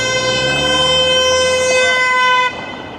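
A car sounds one long, loud, unbroken honk lasting a couple of seconds on a city street during an evening walk from Chinatown to Little Tokyo, then drops away, leaving quieter traffic noise.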